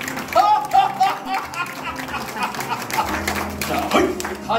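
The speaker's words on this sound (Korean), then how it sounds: "마지막으로 웃으면서 박수." An audience claps at a laughter-therapy magic show, with sharp, rhythmic hand claps scattered through the clip under a performer's lively talk.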